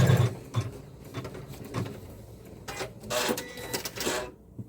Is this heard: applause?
no